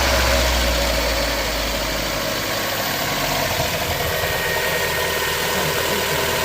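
A Mazda Miata engine, just refitted after a leak repair, settles into a steady idle with a low rumble and faint vibration, loud and close with no talk over it.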